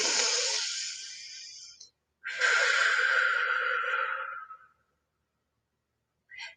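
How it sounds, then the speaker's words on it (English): Close, breathy inhalations and exhalations: a long airy breath fading out, a pause, then a second long deep breath in, trailing off to quiet before a short final breath. "Take a deep breath in."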